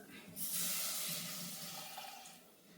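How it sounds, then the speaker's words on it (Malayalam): Water poured into a pot of fish curry with sardines and tamarind: a faint, short splashing pour that swells quickly, holds briefly, then tapers off in a quiet kitchen. "ഇനി നമുക്കിതിലേക്ക് കുറച്ച് വെള്ളം ഒഴിച്ചു കൊടുക്കാം."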